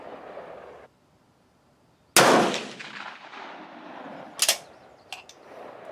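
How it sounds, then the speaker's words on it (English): Rifle firing a handload with 47 grains of 4064 powder at an outdoor range: after a quiet pause a single loud, sharp gunshot cracks out and decays, followed by a few faint mechanical clicks. "I think this load with 47 grains of 4064 appears to shoot pretty well"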